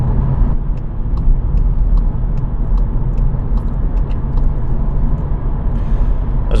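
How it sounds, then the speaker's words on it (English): Amy's manual stick-shift car drives along with a steady engine drone and road rumble inside the cabin, with a few faint ticks and clicks over the constant noise. "Driving a manual, driving Amy's car, which is a manual stick shift"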